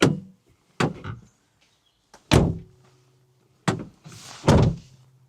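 Doors on a DIY camper van conversion being shut, five heavy thunks and slams spaced irregularly, each loud and close with a short ringing decay and near-silence between.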